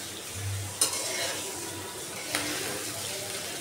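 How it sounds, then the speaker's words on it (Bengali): Shing catfish stir-fried in hot oil in a pan, Bangladeshi home cooking, giving a steady sizzle with scraping stirs and two sharp utensil clicks against the pan. "মাছটা আমি ভালো করে কষিয়ে নেব।"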